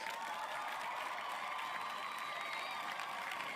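Faint, steady applause and light crowd noise welcoming a guest onto a podcast, a soft continuous wash of clapping in the background.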